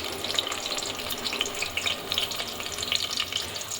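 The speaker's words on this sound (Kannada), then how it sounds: "ಸೊ ಇದಕ್ಕೆ ಇವಾಗ ಈರುಳ್ಳಿ ಹಾಕೋತಾ ಇದ್ದೀನಿ" Thick sliced onions fry in a pan for chicken gravy, a steady close sizzle with light crackling and faint stirring throughout, no one speaking.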